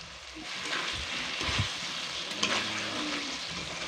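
Potatoes, chopped tomatoes and spices sautéing together in a pan for a vegetarian cabbage curry, a soft continuous sizzle with a few stirring scrapes and bumps, close and moderately quiet, with no voices.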